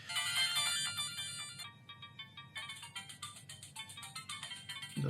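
Mega Drive game music playing through a PocketGO handheld emulator with one audio channel missing: thin, bright chiptune notes in a rapid bouncing pattern, with a brief drop partway through, fairly quiet and without voices.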